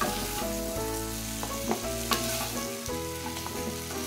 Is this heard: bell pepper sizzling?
yes